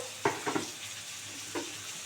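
Ground cumin, Kashmiri red chilli, ginger paste and green chilli paste frying and being stirred in a pan for a pangas fish curry, with a few short scraping sizzles followed by a quiet pause.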